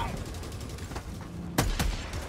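Gunfire in Helldivers 2 crackles in dense bursts aimed at the player, with two sharp, louder shots standing out near the end over a constant busy battle din.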